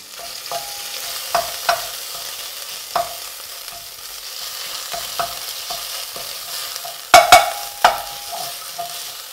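Red Thai curry paste fries in a pan with a soft, steady sizzle, and a spoon stirs and taps against the pan in scattered knocks, with two louder clinks toward the end.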